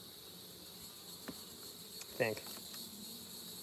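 Honeybees from a small split hive buzz steadily during an outdoor inspection of the opened hive, a soft continuous hum with a louder close pass near the end and a few brief words spoken.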